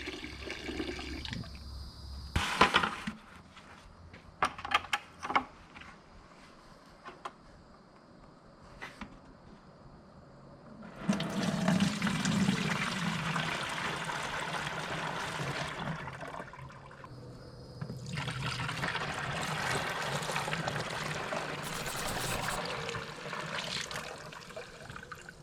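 Scattered clicks and knocks give way to two stretches of rushing, gurgling water pouring and draining from a bottle of lawn micronutrient mixture, separated by a quieter pause.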